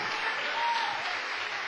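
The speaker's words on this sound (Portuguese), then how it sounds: "Dê uma salva de palmas para o Senhor." A church congregation claps in praise of the Lord with a brisk, continuous round of applause. The sound is loud and close and keeps an even wash throughout.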